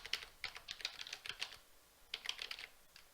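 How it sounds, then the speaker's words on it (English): Quick bursts of keystrokes on a computer keyboard as a web address is typed, two short runs of clicks separated by a brief pause, close and fairly quiet with no voices. "type in the desired URL"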